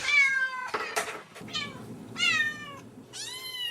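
A pet cat meows repeatedly in a quiet room, five or six drawn-out, rising and falling cries close to the microphone with short pauses between them and no talk.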